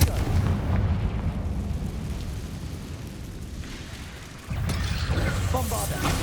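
The Confringo fire spell cast in Hogwarts Legacy, a dense rumbling, crackling burst that holds loud, then cuts off and gives way to a second blast with a rattling mechanical edge.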